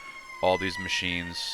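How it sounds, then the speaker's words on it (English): A passing fire truck's siren holds a steady, fairly distant wail beneath someone talking close to the microphone. "Apologize for the sirens. Somebody's going, fire truck driving by."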